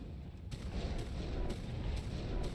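Gunfire in the video game ARK: Survival Evolved, a series of booming shots at roughly half-second intervals over a dense, constant rumble.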